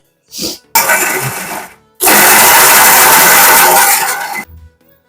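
Mixer grinder whirring through peanut chutney with green chillies, cumin, garlic and tamarind, loud close bursts: a short spin, a longer run, a pause, then a sustained grind that cuts off.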